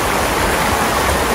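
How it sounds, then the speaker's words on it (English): Creek water rushes continuously at Latourell Falls, a loud, dense, unbroken broadband wash heard up close with no voices. "I'm standing here in the creek in Latourell Falls."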